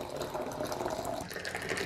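Hot boiling water is poured steadily into a vessel during a Moroccan cooking class in Marrakesh, a continuous close splashing and filling sound with no talking.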